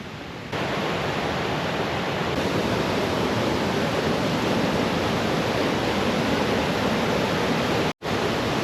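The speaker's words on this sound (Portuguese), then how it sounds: "chegamos ao nosso destino final, que é a Cascata das Canejas junta com seu poço" Cascata das Canejas, a wild waterfall with its plunge pool in northern Portugal, roars as a steady, loud broadband rush that fills the whole clip, dropping out for an instant near the end.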